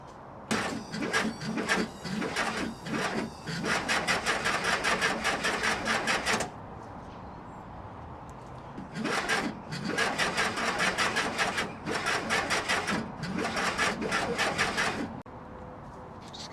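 A VW Beetle with a TwinPort engine is cranked by its starter, with fuel only in the carburetor. Several close, loud, rhythmic cranking bursts lasting a few seconds each are separated by quieter pauses, and the engine never catches.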